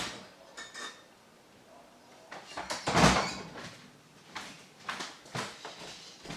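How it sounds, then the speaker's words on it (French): A door is opened indoors for a pet that has just jumped against it. A sharp thump and rattle sound near the middle, surrounded by several lighter clicks and clinks of the handle and frame, close and moderately loud, with no talk. "Je vais ouvrir à Orion qui vient de sauter sur la porte."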